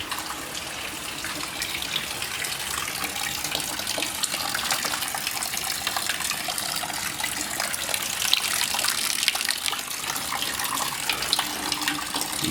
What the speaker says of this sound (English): So it's just to drain out whatever race gas was in it